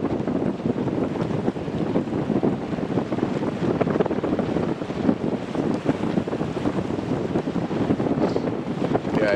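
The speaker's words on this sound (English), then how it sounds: "Mate, it's just blowing a gale." A strong gale-force wind buffets the microphone near open water, a loud continuous roar with gusty rumbling and no letup.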